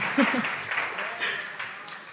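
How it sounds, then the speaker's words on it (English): A live audience applauds musicians at a church service, a soft, steady patter of clapping at moderate distance that holds for about two seconds. "If we could give them a round of applause"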